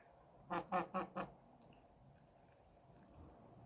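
Domestic geese on a farmyard give four quick, loud honking calls in a short burst, followed by quiet outdoor background.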